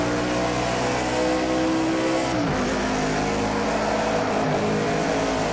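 Stock car engines roar in Project Cars 2, a loud sustained drone whose pitch swoops and drops midway as a car passes, with several engines layered together and no talk.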